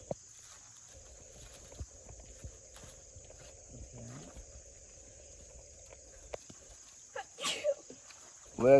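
A single sharp sneeze bursts out near the end, after a long stretch of quiet outdoor ambience with a steady insect drone and a faint mechanical hum by a spruce tree during hornet nest removal.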